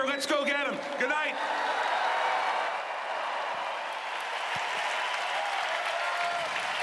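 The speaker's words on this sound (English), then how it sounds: "Chris Christie, the governor of New Jersey, bringing this crowd to its feet. Yes, to cheer Donald Trump and to cheer Christie" A political convention crowd cheers and applauds New Jersey governor Chris Christie, a loud, sustained roar of clapping and shouts with brief whoops near the start, filling the hall throughout.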